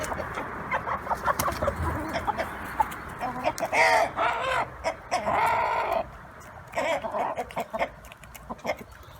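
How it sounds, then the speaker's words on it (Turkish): Several chickens cluck and squawk nearby, with one of three roosters crowing in the middle, repeated busy calls filling the yard. "Üç tane horoz var."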